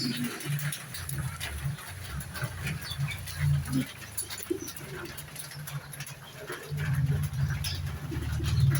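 Budapest racing pigeons coo softly in a loft, low throaty murmurs repeating throughout, with bird calls and rustling nearby and a louder burst of cooing toward the end.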